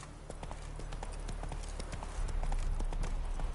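Horse hooves clip-clopping at a trot in the video game The Witcher 3, evenly spaced close hoof strikes over a constant low rumble, growing slightly louder toward the end.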